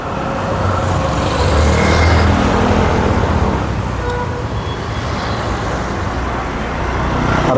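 Steady road traffic from vehicles passing beside a parked diesel Mahindra KUV100 K4, a continuous broadband rumble and hiss with a slight swell around the second mark, moderately loud with no clear talk.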